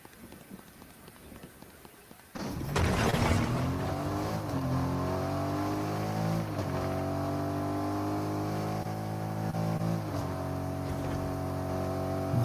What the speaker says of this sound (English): Okay, there's a car.